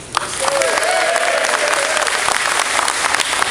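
Applause from a commencement ceremony audience, a dense wash of clapping that swells quickly and holds steady, with a faint tone and scattered voices beneath.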